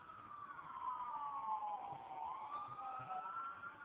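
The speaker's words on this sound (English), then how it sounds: "Fire trucks everywhere. They're going somewhere." Fire truck sirens wail through the street in a steady rising and falling sweep, loud and continuous as the emergency vehicles pass, heading toward a small emergency room, with no voices over them.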